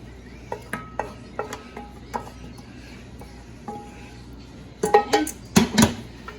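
A spoon clinks and scrapes against a bowl while spinach and Gruyere filling for a pastry ring is stirred together, starting with light, regular taps and building to louder, busier clattering near the end.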